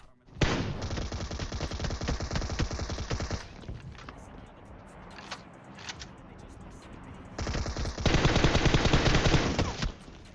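Sustained bursts of rapid automatic gunfire in PUBG Mobile, loud and close, with a quieter stretch of scattered shots in the middle before another long volley.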